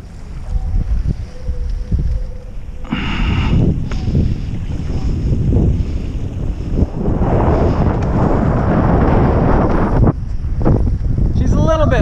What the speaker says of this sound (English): even though it's quite windy today